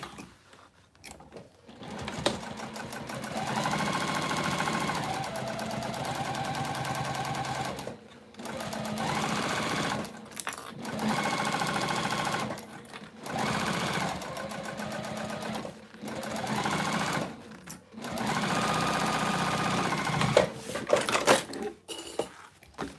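A sewing machine stitches pockets for a bowler bag in long steady runs of rapid mechanical whirring, stopping briefly between bursts, close and loud with small clinks in the pauses.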